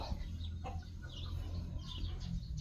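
Chickens cluck and chatter continuously at a moderate distance over a steady low rumble, with no voices present.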